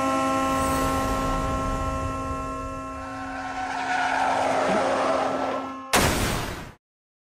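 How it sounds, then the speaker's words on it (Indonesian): A truck's long droning horn sounds with tires skidding beneath it, then a sharp burst of impact noise cuts in and quickly ends in silence. "dia ketabrak truk."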